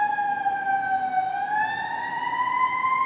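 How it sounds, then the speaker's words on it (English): A fire truck siren wails steadily and loudly, its pitch dipping and then rising again, with no voices over it. "And that's a fire truck. That's not an ambulance."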